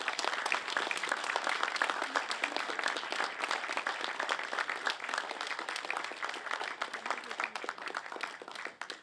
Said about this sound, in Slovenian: Vsi si zaslužite še en aplavz.